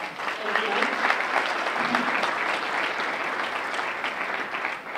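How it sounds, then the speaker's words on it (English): Sustained applause from an audience at a scholarship fundraiser, a dense continuous wash of many hands clapping, fairly loud and even throughout. "we owe Mike an applause for everything he's done for us."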